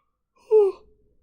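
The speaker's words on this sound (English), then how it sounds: "I'm yawning my head off" A single long, drawn-out yawn from an adult, a breathy voiced swell lasting about a third of a second that fades into a soft exhale, heard alone and fairly close.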